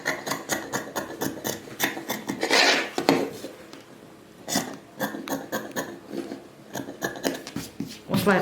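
Scissors snip through fabric while a child's garment is being sewn, with a series of close, crisp cuts in irregular bursts separated by short pauses.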